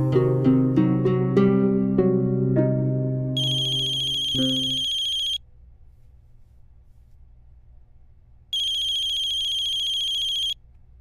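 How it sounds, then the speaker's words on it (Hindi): A melodic phone ringtone plays for several seconds, then two bursts of a bright electronic ring separated by a quiet pause with low rumble. "पापा प्लीज फोन मत उठाना"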